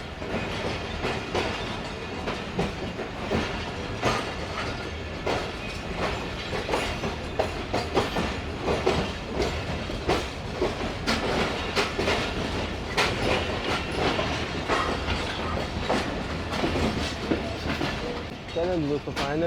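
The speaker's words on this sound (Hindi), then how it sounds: "प्लेटफॉर्म नंबर 1 पर लग रही है ट्रेन।" Tezgam train pulling into platform number 1 at a station, with continuous rumbling, rhythmic wheel clatter and occasional squeal throughout, while someone speaks over it.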